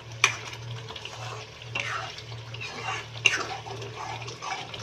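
Ghee cooked down from cream (malai) stirred in a pot, with soft scraping, swishing strokes and occasional louder clinks against the pot over a steady low hum.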